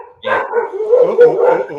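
Dogs bark and yip close by in a short, loud burst lasting under two seconds.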